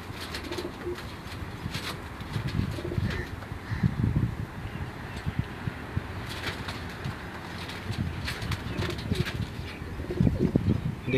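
Flying pigeons belonging to Asad Bhai coo softly in low, murmuring bursts, with faint chirps and rustling mixed into steady outdoor background noise.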